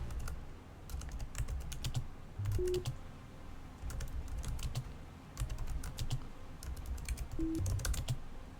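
Steady typing on a computer keyboard, with rapid irregular key clicks going on continuously at close range, quiet and with no talking.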